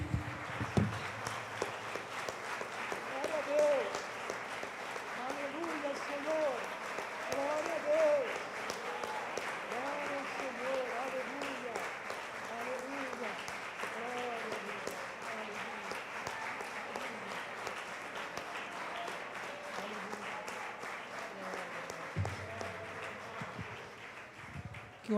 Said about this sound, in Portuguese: Vamos aplaudir o Senhor como Ele é digno.